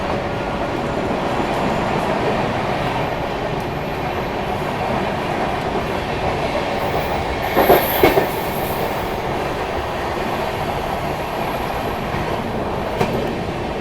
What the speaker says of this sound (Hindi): यहाँ तिलक ब्रिज स्किप कर रही है अपनी ट्रेन